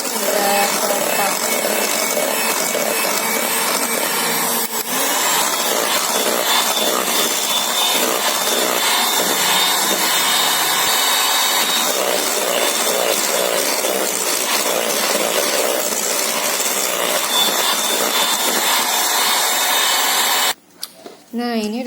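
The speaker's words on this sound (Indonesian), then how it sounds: "Nah, kita mixer kembali hingga rata" An electric hand mixer whirs continuously through sponge cake batter for a birthday cake, a loud, even buzzing drone with a brief break near the end and a voice talking over it.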